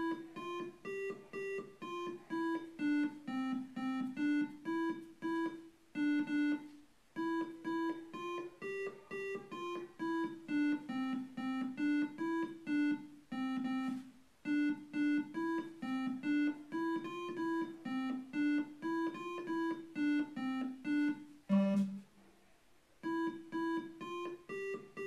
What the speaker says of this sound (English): a song called Ode to Joy, which would sound like this